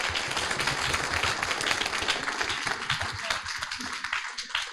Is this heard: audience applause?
yes